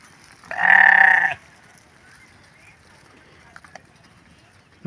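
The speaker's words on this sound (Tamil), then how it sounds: "செம்மறி ஆடு." A sheep on a farm near Dubai lets out one loud, close bleat lasting under a second, then quieter farm background with faint scattered knocks.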